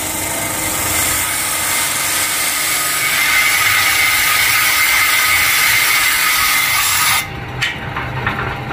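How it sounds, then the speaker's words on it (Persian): A disc sander grinds a wooden kamancheh bowl, a loud continuous abrasive rasp for about seven seconds that then cuts off, leaving lighter scraping and tapping. "ما به روز کار میکنیم با سنباده صفحه دیسکی"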